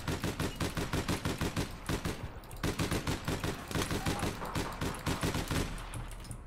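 Rapid automatic gunfire from a weapon in the shooter game APB Reloaded rattles in two long sustained bursts with a brief gap between them, loud and close, with no talk over it.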